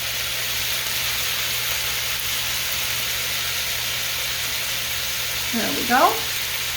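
Vegetables for a pizza casserole sizzle in a hot pan with a continuous, even frying hiss throughout. Near the end a voice speaks briefly over the sizzle.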